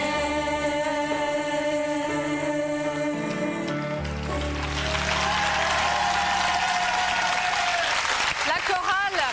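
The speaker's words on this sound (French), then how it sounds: "On peut les applaudir bien fort." Studio audience applause for a children's choir on a French TV show, broadband clapping building after music fades and continuing loudly to the end.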